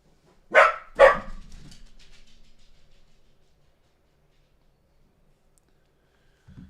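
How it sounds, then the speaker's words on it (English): A dog named Max barks twice in quick succession, close and sharp, with a short echoing tail, followed by several seconds of near silence. "Max barked."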